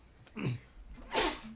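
A single sneeze in a casual talk setting: a short inhaled catch followed by a sharp, close burst, then a brief trailing breath.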